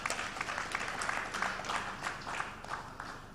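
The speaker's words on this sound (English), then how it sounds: "I want us to give the board a hand of applause" Shareholders at a company's annual general meeting give the board a hand, a moderate, somewhat distant round of clapping with uneven individual claps, sustained for a few seconds.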